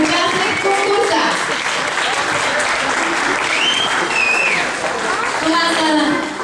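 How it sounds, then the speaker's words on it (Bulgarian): Audience applause at a children's contest, loud, dense clapping sustained throughout, with voices and a few cheers mixed in. "Аплодисменти за тях!"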